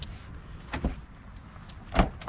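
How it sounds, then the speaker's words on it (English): Car door locks actuating on an old junker car, two short mechanical clunks spaced about a second apart, close by with a quiet background. "But door locks actually do work."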